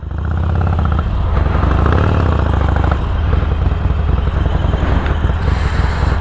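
Harley-Davidson Iron 1200 motorcycle fitted with a custom exhaust tip, idling loud and close with a deep, continuous throbbing rumble and lumpy low pulses throughout, no voices.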